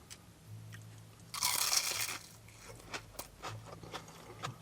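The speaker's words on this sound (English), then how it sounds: "the crunchy, crispy batter on the outside just completes the whole taste and bite of it" Someone bites into a crunchy battered sausage, probably a curry-flavoured one from a long-established fish and chip shop: one loud crisp crunch, then quieter chewing and soft crackles close to the mic.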